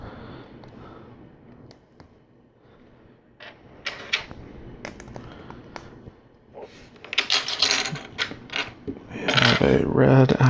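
Small LEGO Technic plastic pieces from the Roadwork Crew set #42060 click, clatter and rattle while a mini excavator is being built, with sparse handling at first, then denser, louder clicking and shuffling near the end.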